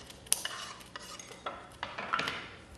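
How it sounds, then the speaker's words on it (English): A knife cuts crisp bacon into small pieces on a board in a home kitchen, giving sharp irregular clicks and scrapes spread across a couple of seconds, fairly close. "I have better luck when I just cut it into small pieces."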